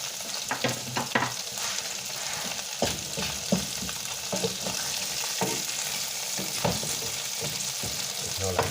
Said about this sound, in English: Add some garlic. We're also going to add some butter on top of it.